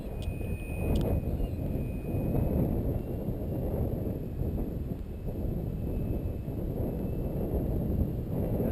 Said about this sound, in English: Big, powerful gust.